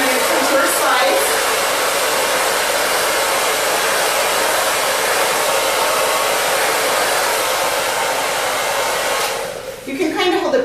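A hair dryer blows steadily and loudly at close range while drying a little girl's short hair, a continuous whooshing roar that cuts off near the end, leaving a few faint rustles.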